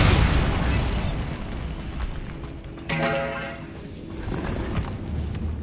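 A Bombarda spell goes off in a wizard game set in a tomb, one sharp blast with a short ringing tail rising above a steady low ambient rumble.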